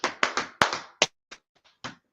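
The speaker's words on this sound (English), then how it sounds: "let's clap it up for everybody in class" A class claps during a language lesson: about half a dozen sharp, close hand claps in a quick irregular burst, then a few scattered, fainter claps trailing off into silence.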